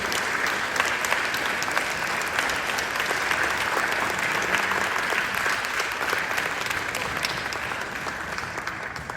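A crowd at an afternoon mayoral gathering claps steadily and fairly loudly, a dense unbroken round of applause that fades a little toward the end.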